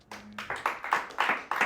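Scattered claps from a church congregation at a worship service, a few distinct hand claps building into a loose, uneven rhythm at moderate distance, with a brief low hum at the start.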